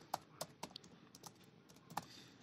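Keys on a computer keyboard typed in short irregular bursts of clicks, close and fairly quiet, while a description is entered into an Elementor web page editor.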